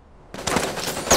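Loud burst of rapid gunfire from the video game Super Mecha Champions. It starts abruptly after a brief quiet moment and continues as a dense volley of shots, with no talking.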